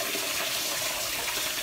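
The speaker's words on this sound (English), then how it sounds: "So that's why it's good to wash your rice." Rice is washed under steadily running tap water, a continuous loud rushing gush with no pauses and no voices.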